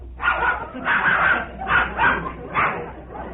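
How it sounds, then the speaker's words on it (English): A dog brought indoors barks in a short run of four loud, evenly spaced woofs, close by in a room with no talking. "Glad he had to bring a dog in here yet."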